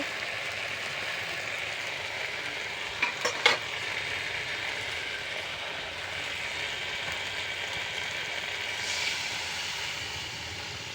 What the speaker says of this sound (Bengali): আমার মশলাটা কষা হয়ে গেছে, এখন পরিমাণ মতো জল দেব।